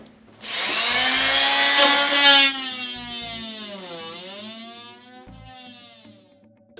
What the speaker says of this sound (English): we need to cut and remove the center stud.